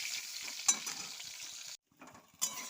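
Vegetables including flat beans sizzle and are stirred in a frying pan, a soft steady hiss broken by occasional scraping strokes and a brief silent gap.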